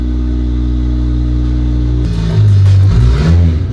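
A single-turbo car with a clutch and welded differential idles with a low steady drone, then its engine revs up louder and rougher, rising and falling in pitch, close by.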